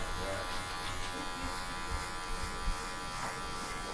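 Electric hair clippers buzz steadily and close up while trimming hair in a barbershop, a continuous motor hum with slight shifts as the blade moves through the hair.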